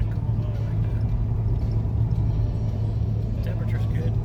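A 1998 C5 Corvette rolls over a rough, horrible road, giving a steady low engine and road rumble from inside the cabin with no clear breaks, with voices faint or absent.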